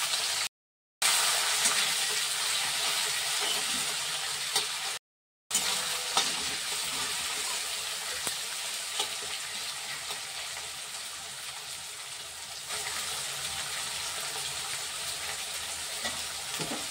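Chopped onions and tomato fry in a pan for a yogurt chicken dish, a steady close sizzle with occasional stirring scrapes, broken by two brief silent gaps.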